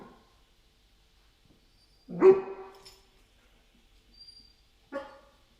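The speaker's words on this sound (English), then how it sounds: "I'm going to wait for Inca to stop barking before we give her a reward." A dog barking at the door gives a loud single bark, then after a pause two shorter barks, in an otherwise quiet indoor space.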